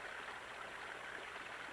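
Steady, continuous rush of flowing water from a village water project, heard alone with no voices, close and even throughout.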